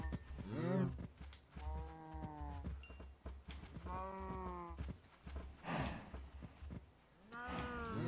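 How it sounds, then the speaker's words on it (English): Cows in Minecraft give several drawn-out moos one after another, each a clear harmonic call separated by short gaps, close and fairly quiet with no talk. "Give the cows some wheat. Gotta breed them."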